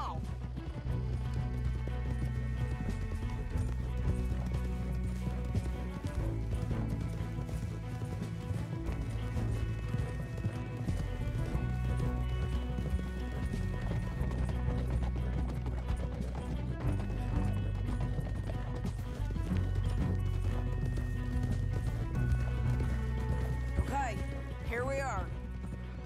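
Horses gallop in a Red Dead Redemption 2 story mission, their hoofbeats running steadily for the whole stretch beneath a continuous, loud musical score.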